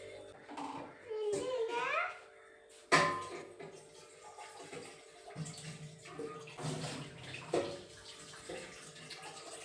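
Drinking water splashes and pours into a vessel in short bursts, with a voice chattering and clattering sounds nearby.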